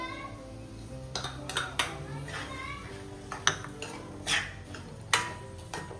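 Jaggery and mawa roasting in ghee in a pan are stirred with a metal spoon, giving irregular scraping clinks and taps against the pan, fairly quiet, with a soft background hum.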